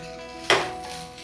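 A pan of kurdai and onion with coarse peanut powder and coriander gets stirred, giving one sudden scraping, rustling burst that fades into a soft sizzle.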